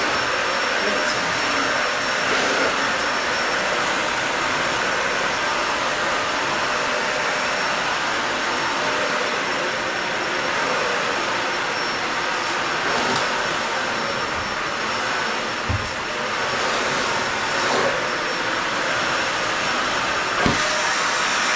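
A Dyson Ball Animal 3 vacuum cleaner runs with its beater brush engaged, a loud continuous high-pitched whine and airy roar, close and steady with a few faint bumps.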